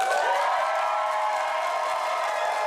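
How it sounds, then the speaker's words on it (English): Hundreds of residents at a Franklin Township meeting cheer and clap as one steady, loud roar of crowd noise that holds evenly, then cuts off abruptly. "Hundreds of residents cheering after Google dropped the proposal that would have brought a nearly 470-acre data center to town"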